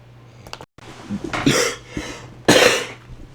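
Someone nearby coughs twice from allergies, harsh and loud, separated by a short pause and a quick breath.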